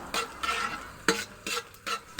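Onion and garlic fry in plenty of oil while a spoon stirs them for pancit bihon, making rhythmic bursts of sizzling and scraping, moderately loud and close, with no talking.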